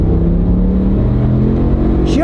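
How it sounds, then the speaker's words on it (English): A Ram truck roars at full throttle on a drag strip, its engine droning loud and close in a steady, rising pull under the cabin. "There's nobody behind us, so we'll floor it."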